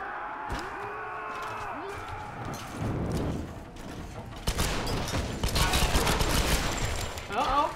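Enemy gunfire in the Tomb Raider (2013) video game, with volleys of shots and bursts cracking repeatedly, growing denser and louder toward the end, mixed with game effects and background activity.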